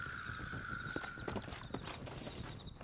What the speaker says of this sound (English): I'm hearing horses.